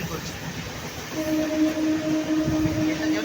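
A MEMU passenger train on the Nalhati to Azimganj line runs at full speed, heard from inside as a steady rumbling roar and rushing wind, with a sustained electric motor whine building partway through.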